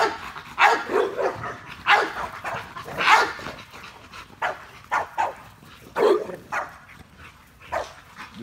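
Several dogs bark and yip in short bursts while working out, with whimpers and panting between the barks; the bursts come close and fairly loud at an uneven rhythm over about eight seconds.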